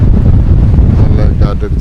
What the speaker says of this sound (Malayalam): നല്ല കാറ്റടിച്ച്